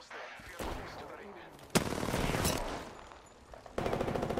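Gunfire in a video game match cracks out in several loud, close bursts with short gaps between them, each blast ringing briefly before the next.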